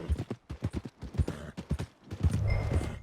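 Horse hooves clip-clopping in Red Dead Redemption 2, a steady run of close, distinct hoofbeats on a town road, ending in a denser stretch of hoof sound.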